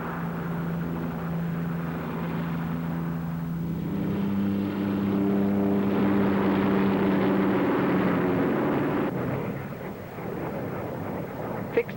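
Fixed-wing aircraft flying past at the Farnborough air show, a steady droning engine with a tonal hum that swells through the middle and then fades away, with no voices over it.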